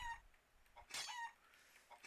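Chicken hammer weapon in the Point Blank shooter game gives short, faint clucks and a crow-like squawk near the middle of a two-second stretch, with game noise in between.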